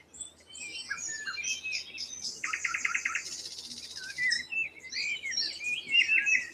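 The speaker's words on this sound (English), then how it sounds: "Listen to them beautiful birds." Several birds sing and chirp outdoors on a calm Sunday, bright overlapping whistles and a short trilled phrase, fairly close and steady with no voices.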